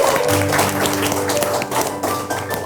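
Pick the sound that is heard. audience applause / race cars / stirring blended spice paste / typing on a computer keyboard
audience applause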